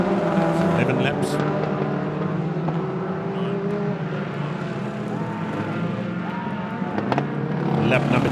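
Stock cars lapping a racing circuit produce a continuous loud engine drone with overlapping pitch sweeps as cars pass, while a commentator talks over the noise.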